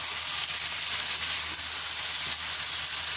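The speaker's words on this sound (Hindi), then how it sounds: "तो ये देखें चिकन को फ्राई करते हुए मुझे 4 मिनट हो गए हैं।" Chicken frying over a high flame for korma makes a loud, continuous sizzle and crackle with steady spattering, and no pauses.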